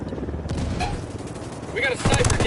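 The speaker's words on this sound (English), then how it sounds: "We got a sniper, get down!" Sniper and automatic gunfire in the tactical shooter Ghost Recon, sharp cracks and bursts amid combat noise, growing louder and denser toward the end, with shouted voices over the shooting.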